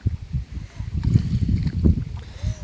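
A small wooden rowboat moving on a river, water sloshing and knocking against the hull in uneven low surges, close by with some wind rumble on the microphone and no speech.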